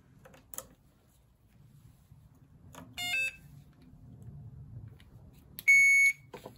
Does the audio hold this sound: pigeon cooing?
no